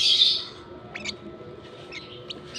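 Baby African lovebirds give a few short, high chirps, close but fairly soft, opening with a brief shrill burst and followed by scattered thin peeps over a quiet background.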